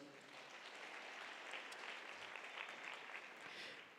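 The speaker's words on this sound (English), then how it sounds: "Let's give her a round of applause" A room full of people claps steadily at a provincial tourism career expo in the Free State, a dense, even wash of applause that stays fairly quiet and distant throughout.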